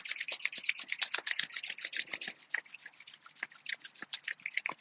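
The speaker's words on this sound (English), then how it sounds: "Rub your hands together." Palms rubbing briskly together in a quiet yoga session, a steady run of soft, rapid swishing strokes close by with no talking.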